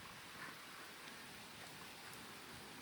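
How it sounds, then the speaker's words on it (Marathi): Steady rain falls as a soft, even hiss, distant and faint, with no voices or other distinct sounds. "आज आमच्या इकडं पाऊस येतोय"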